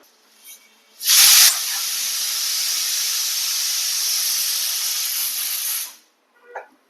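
A pressure cooker of goat meat curry, cooked over a lantern-lit stove, lets out one long loud steam whistle that bursts in sharply and holds steady for about five seconds before cutting off, followed by a faint short hiss.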